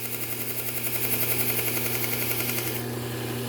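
A belt grinder with a Trizact A30 belt sharpens a lopper blade, a steady motor hum with a pulsing whir and hissing abrasive contact that drops away near the end.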